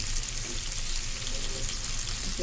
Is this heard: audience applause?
no